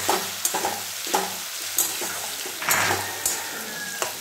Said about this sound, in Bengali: পেঁয়াজগুলো লাল লাল করে ভাজা হয়ে গেলে সিলে করে রাখা মশলা, আদা রসুন লঙ্কা আর তার মধ্যে দিয়ে দিয়েছি হলুদ, টমেটো দিয়ে সব একসঙ্গে কষিয়ে নেব।